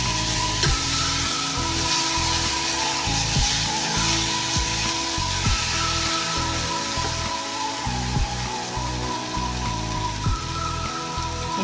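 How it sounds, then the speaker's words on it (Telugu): Close, continuous sizzling of mutton kheema masala frying in a pan with ginger-garlic paste while being stirred, with faint scraping strokes over the dense hiss. "దీన్ని పచ్చివాసన పోయే వరకు బాగా కలుపుకున్నాం"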